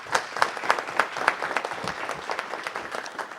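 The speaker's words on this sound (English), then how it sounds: "let's give them a round of applause" A crowd at a council meeting applauds with dense, steady clapping throughout, fairly close and lively, with no talking.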